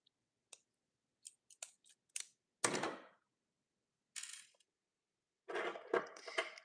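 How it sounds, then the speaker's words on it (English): Strong pliers cut and work 12 gauge copper wire for handmade jewelry, producing isolated crisp snaps and clicks separated by silence, with a couple of longer scraping rustles, close and fairly quiet. "I'm gonna use my strong pliers to cut this 12 gauge"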